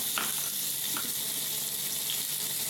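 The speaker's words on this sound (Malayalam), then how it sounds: "ഇനി അതിലോട്ട് തന്നെ നമ്മുടെ ഈ ഒരു ടൊമാറ്റോ ഇട്ട് കൊടുക്കുക." Spices frying in a pan as tomato is tossed in, giving a steady, close sizzle with a faint sharp splash near the start and light stirring, with no voices.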